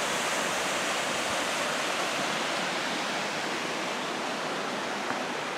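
A waterfall in a mountain canyon on a spur of Mount Cockscomb, Banff National Park, pours in a steady, dense roar of rushing water, continuous and fairly near, with no voices.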